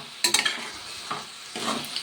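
Fish frying in ghee in a pan is stirred with a few scraping strokes over a soft sizzle, close up and without speech.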